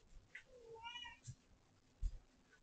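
A kitten mews softly several times in an indoor room, thin rising cries with a couple of faint thumps between them, fairly quiet and alone without any talking.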